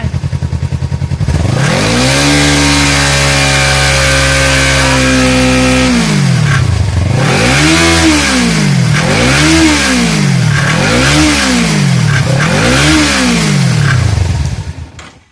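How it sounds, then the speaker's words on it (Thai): A Kawasaki Z300 motorcycle engine starts, holds a steady, loud idle, then revs five times in a regular rhythm, each rev rising and falling. It sounds very close and loud, with no talking. "แล้วครูติดเครื่องใหม่ เดี๋ยวเราดูนะ"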